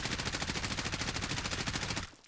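Automatic weapon fire in the Warzone (Modern Warfare) video game, a loud, dense burst of rapid shots that runs steadily for about two seconds, then cuts off and leaves a fading tail.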